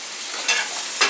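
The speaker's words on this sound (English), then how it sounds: "I'm just frying off some peppers and some onions for the first one" Peppers and onions sizzling loudly in a frying pan for omelettes, a continuous crackle with two sharper bursts as the pan is stirred, no speech.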